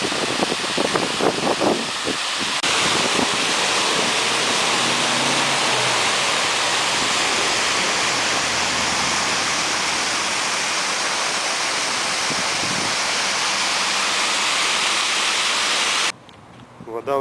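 Steady roar of water rushing through a breached dam, loud and continuous throughout, with a faint voice at the very start.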